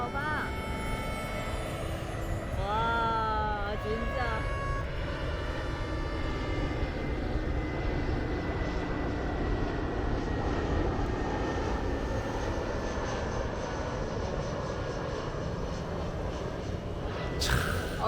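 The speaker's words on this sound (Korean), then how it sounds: "비행기 비행기" A fixed-wing airplane passes overhead during a walk near the sea on Phu Quoc, its engine drone steady and prominent throughout, with people briefly talking and laughing near the start.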